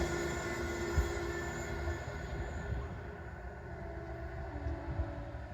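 Two diesel special trains on the Seawall sound a long, steady horn toot over a low rumble of rolling stock, fairly distant and unbroken.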